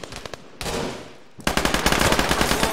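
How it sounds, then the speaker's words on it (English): Automatic machine gun fire in a first-person shooter match: a few short separated shots, then a dense sustained burst, a pause, and a louder rapid rattling stream that keeps going to the end. "Machine gun."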